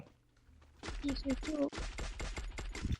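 Rapid bursts of gunfire from the Free Fire game crackle in close, dense volleys after a quiet start, with a muffled voice faintly beneath.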